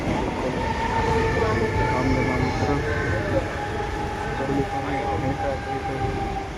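A local commuter train near Pimpri-Chinchwad runs along steadily, with a loud, continuous rumble and rail clatter throughout. A voice talks over the noise.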